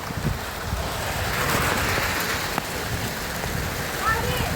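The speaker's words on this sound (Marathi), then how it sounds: "पाऊस आलाय लय मोठा बघू शकता" Heavy rain pours down in a dense, steady hiss of drops striking surfaces nearby, swelling slightly mid-way, with no voices heard.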